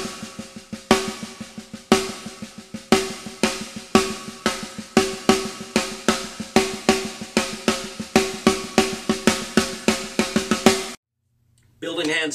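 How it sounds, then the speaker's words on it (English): A single stroke roll on a drum with accents: a fast, even stream of strokes where regularly spaced louder hits stand out, then the playing stops and a voice begins speaking. "So when you start throwing in accents, it'll sound something like this."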